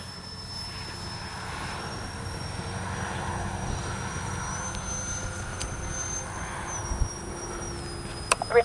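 An X-FLY J-65 RC jet making a low gear pass with retracts and landing flaps down, its steady turbine whine droning continuously at moderate distance, with a few sharp clicks near the end.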